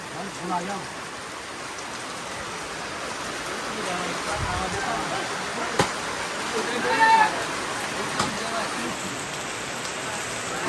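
Steady heavy rain pours down continuously, a dense hiss of drops with occasional louder splashes close by.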